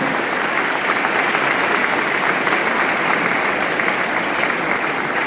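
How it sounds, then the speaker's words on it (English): Dense, steady applause from a large audience at an Independence Day college event, loud and unbroken for several seconds with no voices standing out. "Then why don't you clap?"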